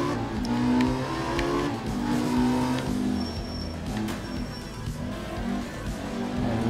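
A rally car in the video game art of rally accelerates, its engine droning and rising in revs with a steady, close, fairly loud note, heard alone without talking.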